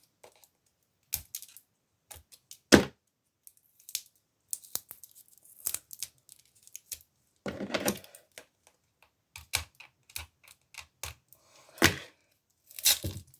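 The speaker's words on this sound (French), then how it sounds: "J'arrive mieux à les déballer." Plastic packaging from advent calendar figures being torn and unwrapped, sharp intermittent crinkles and rips scattered over several seconds, close and fairly quiet with silent gaps between bursts.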